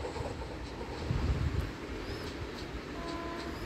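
A video game train pulling away from the platform, a steady rumbling roar of rolling wagons with faint whistle-like tones riding on top, continuous and fairly loud with no talking.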